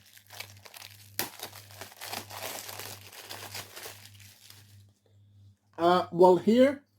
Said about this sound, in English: we remove the plastic